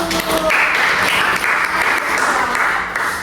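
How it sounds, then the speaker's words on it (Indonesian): Classroom applause for a student group during a micro-teaching lesson, steady dense clapping from a room of students, loud and close, continuing throughout. "Beri tepuk tangan untuk kelompok 1."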